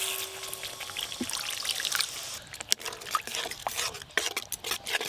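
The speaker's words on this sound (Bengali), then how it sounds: "এবার জল দেব।" Water is poured into a pan of mustard gravy during cooking, a close splashing trickle that shifts into bubbling and stirring sounds with light scraping, alone without speech.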